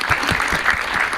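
A short burst of audience clapping from a crowd at a gathering with film cast members, dense and even for about a second.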